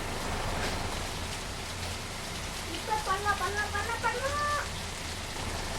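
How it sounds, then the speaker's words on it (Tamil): Rain falls on a bus in the Bus Simulator Indonesia video game, a constant broadband hiss with a short burst of chirpy, rippling tones in the middle. "மழை பெய்யுது. என்ன இன்னமும் மழை பெய்யுது?"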